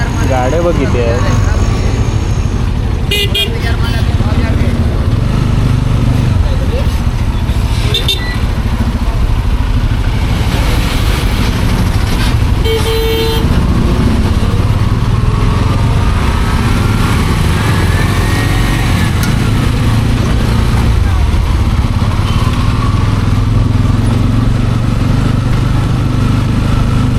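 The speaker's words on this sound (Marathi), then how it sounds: "गाड्या बघ किती आहेत" Steady, loud engine drone of motorcycles and scooters moving through a busy market street, continuous throughout with a few brief sharper bursts, no clear horn blasts standing out.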